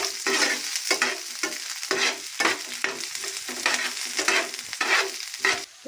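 Onions stir-fried in an iron wok for hakka noodles, loud close bursts of sizzle and metal scraping that rise and fall in a quick, regular tossing rhythm, without speech.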